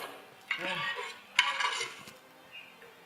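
Food scooped out of a pot with a utensil, two scraping, stirring strokes of metal against the pot with soft wet clatter, close by, with faint background murmur.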